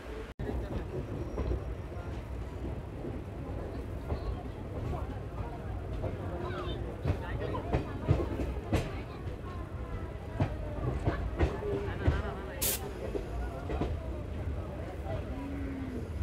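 An intercity express train pulls into Visakhapatnam Junction, its steady rolling rumble and rail clatter filling the scene with occasional clanks and a brief sharp squeal near the end, while people talk in the background.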